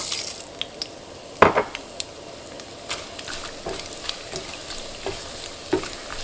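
Whole garam masala spices fry in hot oil with a soft continuous sizzle, punctuated by a sharp metallic pan clank and several lighter clicks from stirring.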